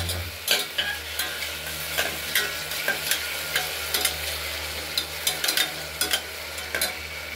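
Mung dal sautéed with spices in a pressure cooker, giving a steady close sizzle broken by repeated scraping stirs of a spoon against the metal pot.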